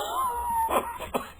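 A single short cough against a steady background hum on a live radio show, brief and fairly close.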